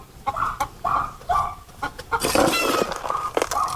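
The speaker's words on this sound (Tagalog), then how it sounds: "merong maingay na manok ito sa kapitbahay" A neighbour's rooster crows loudly nearby, the call rising and drawn out, with clucking hens around it and no talking.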